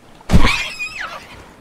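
A wild pig in Stranded Deep gives a single sharp squeal, loud and close, starting with a harsh burst and trailing into a falling, wavering cry that fades within about a second.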